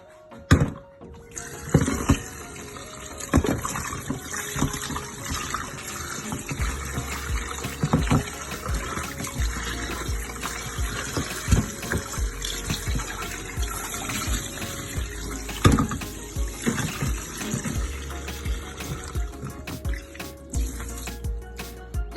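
Tap water running steadily into a sink while salt mackerel is rinsed by hand, with splashing and sloshing bursts as the fish is moved under the stream.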